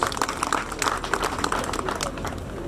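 Audience applause at a health school graduation ceremony, a steady patter of many hands clapping with uneven bursts, fairly close and continuous with no talk.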